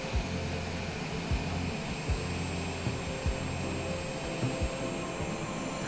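A business jet, a Citation Longitude in Microsoft Flight Simulator, roars steadily through its takeoff roll with a constant broad engine hum and faint periodic thumps, loud and unbroken with no talk.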